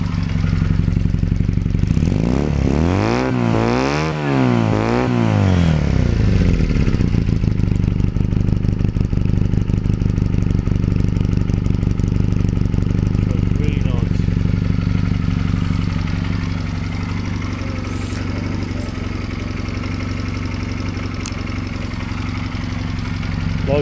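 A 2014 AJS Nac 12 125cc motorcycle idles steadily nearby with a rapid ticking clatter in its engine, after a brief rev rising and falling near the start.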